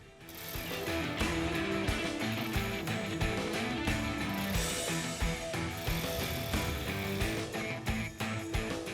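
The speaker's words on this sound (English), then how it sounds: "go ahead and tighten up those 4 bolts that hold that to the center plate" Ratchet tightening the four bolts that hold a cargo rack to its center plate, a rapid, continuous metallic clicking with brief pauses between strokes, close and fairly loud, with no talking.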